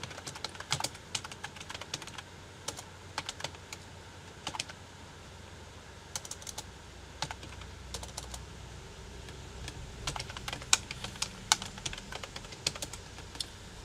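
An address is typed on a computer keyboard as quiet, close bursts of rapid key clicks with short pauses between them.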